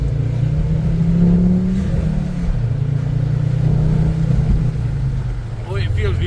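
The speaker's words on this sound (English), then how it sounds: "I keep the windows down so you can hear the exhaust." A car's exhaust rumbles while it drives with the windows down, a steady low drone mixed with wind noise that eases briefly and picks up again. A voice speaks faintly at the very end.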